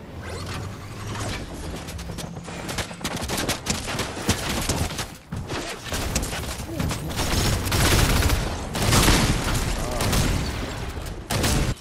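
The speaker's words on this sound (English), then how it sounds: "Shooting at our direction" Dense gunfire in the video game Fortnite, continuous rapid bursts and rattling shots layered with mechanical clatter, loud and close throughout with no talk.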